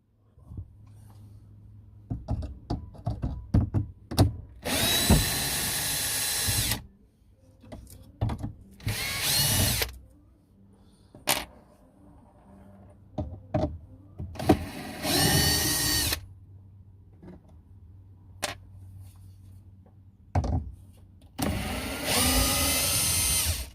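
A power tool trims wood while sliding doors are fitted to a kitchen in a van, running in four loud bursts of a few seconds each, with quieter tapping and handling noises between them.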